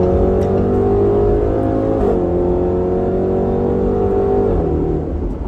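The V8 engine of a 2020 Range Rover Velar SV Autobiography revs while the SUV is moving, a loud, steady, throaty drone with slight pitch dips and rises, heard alone without speech.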